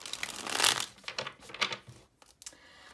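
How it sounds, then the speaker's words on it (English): Tarot cards being shuffled by hand, a burst of quick riffling and sliding card flicks, close and crisp, settling into a few softer taps, with no talking. "Let's get one more good shuffle here for Taurus."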